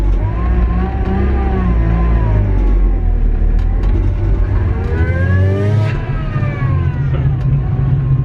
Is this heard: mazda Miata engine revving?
yes